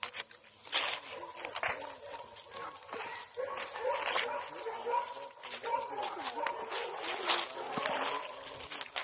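Dogs meeting outdoors, with faint whimpers and small yips scattered under steady conversation among several people, amid rustling and watery background noise.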